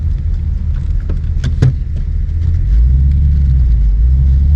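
A 1950 Mercury coupe on the road, with a loud, steady low engine rumble and road noise from inside the car. A couple of brief clicks come early, and the drone thickens as it pulls.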